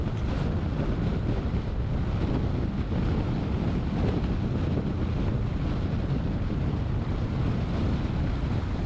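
Strong wind roaring steadily across the microphone of a cyclist riding a time trial on a small winding country road, a loud continuous broadband rush with no let-up and no voices.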